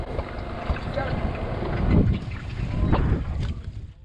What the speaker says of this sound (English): We got that boat coming up as well